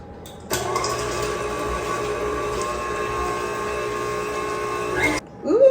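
An electric mixer whirs steadily for about five seconds through cookie dough with cream cheese and chopped macadamia nuts, starting and stopping abruptly, with a brief voice right after.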